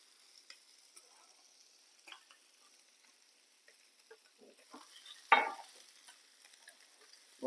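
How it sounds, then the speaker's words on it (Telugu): Tuna fish kebabs frying in a pan, with a soft sizzle broken by scattered stirring clicks and one louder scrape near the end, heard close with no talking. "మన ఫిష్ ఫ్రై అయితే దాకా"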